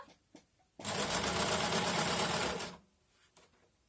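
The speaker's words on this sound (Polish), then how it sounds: "Spuszczamy stopkę i szyjemy. Przeszywamy do końca." A sewing machine stitches a straight seam along fabric for a simple tote bag, a fast, continuous whirring run of about two seconds, close and loud, framed by a few quiet handling clicks before and after.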